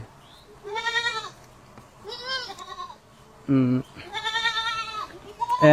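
Goats of a large breed on a goat farm bleat loudly and close by in several separate calls, wavering cries spaced through the moment with a voice speaking between them.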